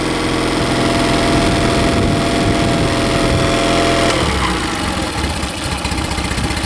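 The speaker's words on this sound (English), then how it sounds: "I do like to idle my engines a lot lower than normal" A Mercury outboard boat engine with a replaced fuel pump idles steadily, low and close by, with a low, rough, vibrating hum that shifts slightly in tone partway through. No voices.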